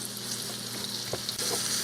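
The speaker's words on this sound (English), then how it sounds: "Here they are frying." Country fried steak frying in hot oil, a steady close crackling sizzle that runs throughout with a few louder pops and bubbling bursts near the middle.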